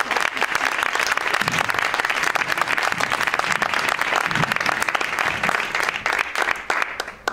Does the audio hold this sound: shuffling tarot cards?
no